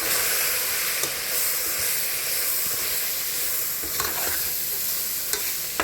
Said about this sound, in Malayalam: മല്ലിപ്പൊടി 2 സ്പൂൺ എല്ലാം കൂടി ചേർത്ത് വഴറ്റുക